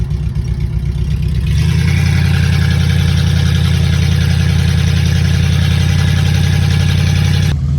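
A 1985 Oldsmobile Cutlass engine idles roughly, then fires up louder with a steady, throaty rumble and a slightly loud exhaust, close and continuous before cutting off at the end.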